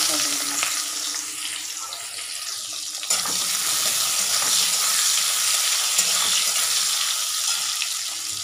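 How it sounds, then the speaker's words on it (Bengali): Chopped onion fries with black cumin seeds tempered in hot oil, a loud, constant sizzle that swells midway as the onion goes in, with faint stirring clinks throughout and a voice barely present underneath. "কালো জিরে ফোড়ন দিয়ে দিলাম, ওখানে পেঁয়াজ কুচি দেবো, সেটাও দিয়ে দিলাম।"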